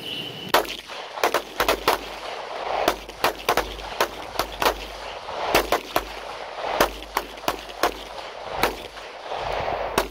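Pistol shots at an outdoor fighting-pistol class in North Carolina: sharp, loud cracks fired in quick irregular strings by several shooters, some overlapping, over a low ambient rumble.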